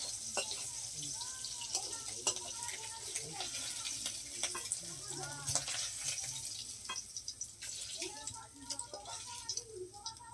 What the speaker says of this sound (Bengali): চিংড়ি মাছটাকে একটু হালকা করে ভেজে নেবে খুব কড়া করে ভাজবে না